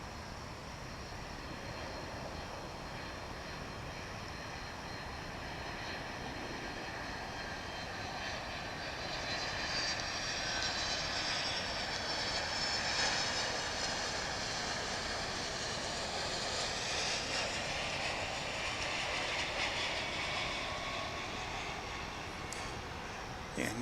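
A jet airplane at DFW International Airport roars steadily at a distance, its engine noise swelling to a broad, loud peak mid-way as it passes, then gradually easing off.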